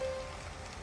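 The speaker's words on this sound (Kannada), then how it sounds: "ಮಳೆ ಸ್ಟಾರ್ಟ್ ಆಯಿತು" Rain begins to fall as a faint, soft patter of drops on surfaces, quiet and steady for a brief moment with a thin tone at the start.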